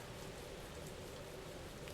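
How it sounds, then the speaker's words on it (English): Rain falling in the L.A. Noire video game on PS4, a steady, even hiss of drops on surfaces with no voices over it. "Greetings from sunny California, and it's raining."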